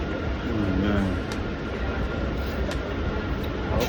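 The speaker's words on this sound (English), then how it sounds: "just on the train right now" Steady rumble and rattle of a train carriage riding through New York City at night, a continuous loud broadband roar with a few brief clanks.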